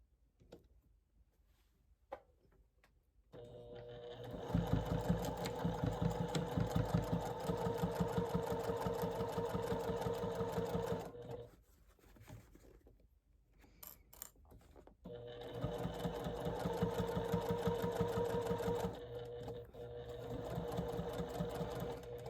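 A sewing machine stitches through several layers of canvas, cotton and soft stabilizer in two long, steady runs of even, close whirring, separated by a brief pause and faint handling noises.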